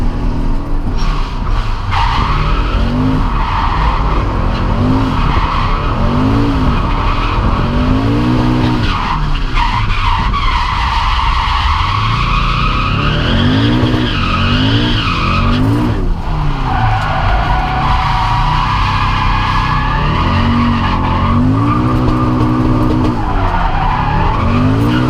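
A car drifting on a final lap at a Teesside drift day: loud, continuous tyre squeal and a revving engine that rises and falls as it slides through the corners, close by throughout.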